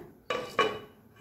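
A lid set down over a pan of spine gourd cooking in milk: two short metallic clanks in quick succession, close and clear, with a faint hiss between them.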